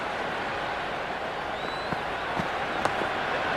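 Steady crowd roar from spectators at a Sri Lanka versus Ireland T20 cricket match, a continuous wash of cheering and noise with a few sharper claps and whistles rising out of it.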